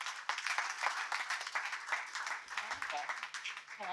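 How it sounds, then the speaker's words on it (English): Audience applause for someone speaker at a Christian gathering, a dense steady patter of many hands lasting throughout, with faint murmuring beneath and a brief low voice near the end. "So let's give her a warm round of applause"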